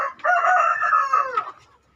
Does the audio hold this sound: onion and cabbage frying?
no